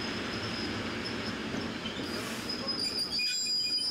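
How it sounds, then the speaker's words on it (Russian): Kim Il Sung's special train, a consist of eight carriages plus two extra cars, arrives at a station in the Urals with a steady, loud rail rumble and high wheel squeals rising near the end. "Личный поезд Ким Ир Сена показался по расписанию ровно минута в минуту."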